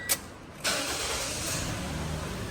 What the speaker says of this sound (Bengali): গাড়িটা স্টার্ট দিছি, জাস্ট সাউন্ডটা শুনেন